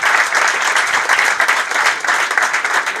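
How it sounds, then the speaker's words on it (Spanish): An audience claps loudly and steadily for a professor at a sports talk event, with dense applause filling the whole stretch without a break. "pido un aplauso para el profe"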